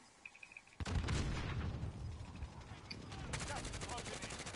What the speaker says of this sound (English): They called in an airstrike.